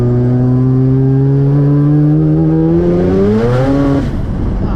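Turbocharged 13B rotary engine in a Mazda 1300 Coupe pulls hard in fourth gear, a loud, rising buzzing drone that climbs steadily in pitch for about four seconds, then drops away abruptly near the end.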